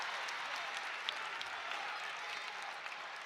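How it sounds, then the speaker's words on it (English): Home basketball crowd at Millett Hall applauding and cheering for the Miami RedHawks during a game against Buffalo, a dense steady wash of clapping and crowd noise that holds throughout without speech. "The Millett crowd voicing their support for their Hawks"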